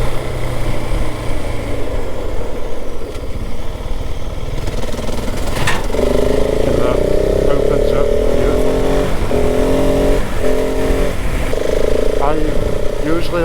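A 2026 KTM 690 Enduro motorcycle winds downhill on a green lane in the North York Moors. Its engine note rises and steadies from mid-clip over constant wind rumble.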